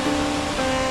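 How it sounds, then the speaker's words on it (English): A waterfall beside the Timberline Trail on Mt Hood rushes in a steady, dense roar with no pauses, loud and close, and no voices over it. "I just wanted to show you this waterfall that's right behind me."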